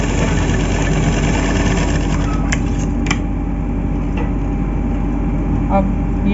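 A sewing machine stitches the border of a blouse with a steady, continuous mechanical whirr and hum, punctuated by a few faint clicks, running throughout.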